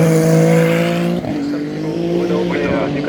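Race cars at the Le Mans endurance race pass near the Arnage corner, with loud engine roars shifting in pitch as they go by. A commentator's voice runs under the engine noise.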